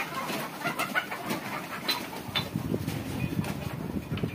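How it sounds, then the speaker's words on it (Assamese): Steady clucking and cooing from a flock of large Sonali laying hens fills a poultry farm shed in Barpeta, with many overlapping calls close by and no break. "এইবিলাক মুৰ্গী।"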